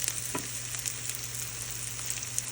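Butter sizzles and crackles softly as it melts in a pan for a roux, a low, steady frying hiss with small pops.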